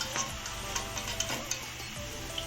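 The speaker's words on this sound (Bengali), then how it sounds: "এইরকম আমি সবগুলোকে এইভাবে করে ভেজে নেব" Potato laccha pakora fries in hot oil with a steady, dense sizzle broken by occasional sharp pops and crackles, heard close up with no voices.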